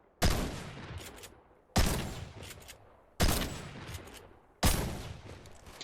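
Four evenly spaced shotgun blasts in a Fortnite-style video game fight, each a loud sharp crack trailing into a short decaying echo, roughly one and a half seconds apart.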